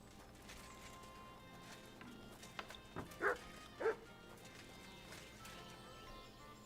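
Two short dog barks from a medieval village setting in Kingdom Come: Deliverance II, sharp and separated by about half a second, over a low ambient background.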